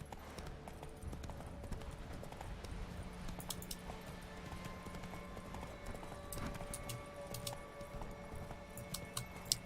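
Roach the horse in The Witcher 3: Wild Hunt trots along with steady, rhythmic hoof clip-clops, fairly quiet under a game soundscape with faint tones and jingling.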